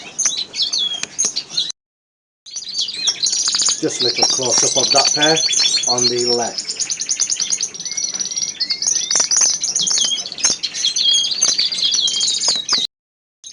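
Small finches, redpolls and siskins kept as breeding pairs in an aviary, chirp and twitter in a steady busy chatter, with someone talking over them throughout.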